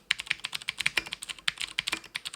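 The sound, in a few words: typing on a mechanical keyboard with Cherry ABS keycaps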